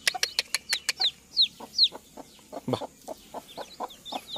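A country hen with freshly hatched chicks clucks in soft, steady low notes while the chicks' high, thin peeps come in rapid bursts nearby.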